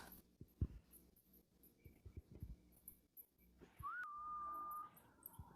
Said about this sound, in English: I heard a whistle very faintly